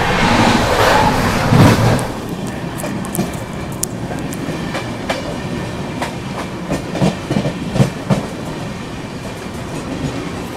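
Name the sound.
Seemanchal Express train, sleeper coach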